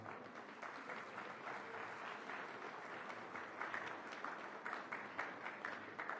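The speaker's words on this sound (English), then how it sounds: "Ladies and gentlemen, a huge round of applause." A crowd at an inauguration event for a climate week in Mumbai applauds with steady, dense clapping that continues for several seconds, heard fairly faint and distant.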